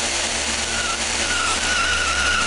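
Sprinter XL RC car from Re-Volt steering hard on the Museum 1 track, a loud whining motor under a continuous hiss with a thin tire squeal rising partway through.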